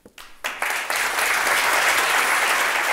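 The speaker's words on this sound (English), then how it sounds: "Your applause." Audience applause after an academic lecture, a few scattered claps quickly swelling into loud, dense, sustained clapping that fills the hall.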